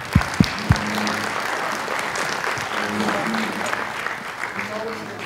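Conference audience applause before a keynote on scaling Scrum, a steady clapping wash at moderate level with a few sharp thumps at the start and faint voices mixed underneath.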